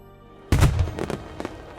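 Fireworks in the video game Chronicles of Mystery, set in Venice: a single sharp burst after half a second of quiet, followed by a few crackling pops fading off, heard alone.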